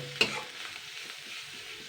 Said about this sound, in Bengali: এবার আমি এখানে 2 চামচ বেসন গুঁড়োটা দিয়ে দিচ্ছি। এটা আমি 1 মিনিট নাড়াচাড়া করে নেবো।